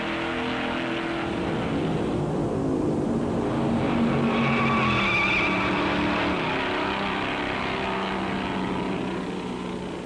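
Stock cars at the 1957 Darlington Southern 500 roar past in a dense, continuous pack, engines droning loud and steady with a rising swell mid-pass as the field thunders by.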